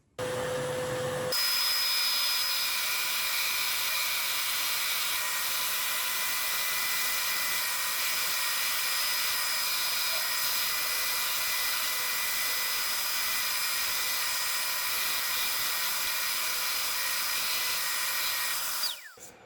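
A power drill fitted with a sanding wheel grinds a wooden guitar neck down to a marked line for the truss rod, one loud continuous whine that starts abruptly, holds steady for nearly twenty seconds, then cuts off.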